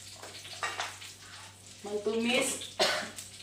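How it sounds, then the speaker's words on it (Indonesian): Ground spice paste fries in hot Bimoli cooking oil in a wok, giving bursts of crackling sizzle and stirring noises. A voice talks over the cooking. "Setelah minyak sudah masak, kita masukkan"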